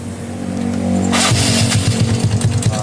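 A Yamaha Mio scooter with a faulty oil pump starts after a rising whir, then its engine runs loud and rough with a rapid uneven clatter, close by and without talk.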